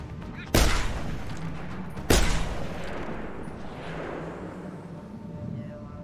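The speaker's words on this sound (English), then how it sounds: "It packs a punch, the old sniper rifle." Two heavy sniper rifle shots in the video game Deus Ex: Human Revolution, each a sharp loud blast with a long rumbling tail, spaced about a second and a half apart over a low steady background hum.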